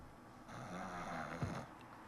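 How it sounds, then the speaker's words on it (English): A man snoring in low, rough rasps that rise and fall through the clip, with one louder guttural snort near the end; fairly close and heard alone without talk. "Alright, he stopped snoring finally."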